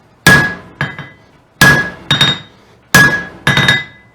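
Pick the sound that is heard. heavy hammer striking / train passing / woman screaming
heavy hammer striking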